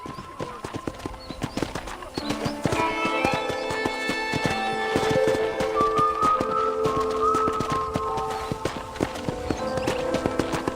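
Horse hooves clip-clopping at a steady walking rhythm in the Red Dead Redemption video game, clear and close, with a tune playing along underneath.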